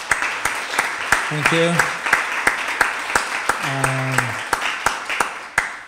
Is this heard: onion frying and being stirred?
no